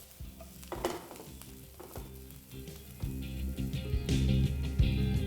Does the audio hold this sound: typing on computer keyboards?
no